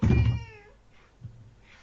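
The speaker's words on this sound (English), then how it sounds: "hear your cat." A house cat lets out one loud, close, drawn-out meow that falls away, followed by a soft thump and faint room noise.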